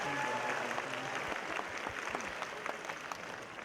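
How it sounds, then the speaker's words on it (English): An audience applauds a singer at a live event, a dense, steady wash of clapping from a crowd that holds throughout, fairly distant and even, with faint voices mixed in. "Let's give her another round of applause."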